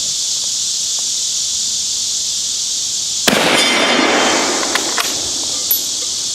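A single sharp gunshot from a Mauser VZ24 rifle in 8mm cracks loudly up close over a steady high outdoor insect hiss, followed by a fading rumble and a few faint clicks.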